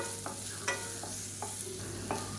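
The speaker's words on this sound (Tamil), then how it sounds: "இப்போ வெங்காயம் ஓரளவுக்கு நல்லா வதங்கிடுச்சு" Sliced large onions sauté in a pan for manathakkali keerai kulambu, a soft steady sizzle broken by several scraping spatula strokes at regular intervals, close and fairly quiet with no talking.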